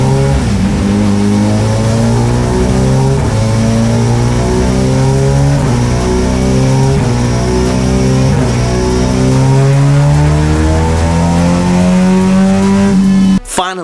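A third-generation Suzuki Hayabusa motorcycle with an M4 exhaust revs continuously at high load on a dyno, pitch climbing repeatedly through gears in a sustained roar, close up.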